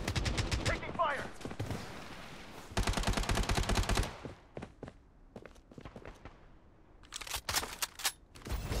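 Bursts of automatic gunfire in the Call of Duty Mobile video game, with rapid rattling volleys, single shots and footstep-like thuds between them, loud and close.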